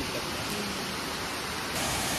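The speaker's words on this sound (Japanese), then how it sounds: "まずは白糸の滝にやってきました。" Shiraito waterfall in Itoshima, Fukuoka, pours as a steady, broad rushing hiss that fills the air evenly, close and constant, with no voices.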